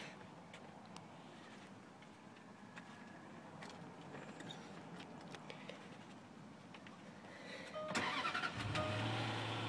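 A 2010 Range Rover Sport HSE starts near the end: a quiet stretch, then a crank and the engine catching into a steady idle, heard up close with no talk.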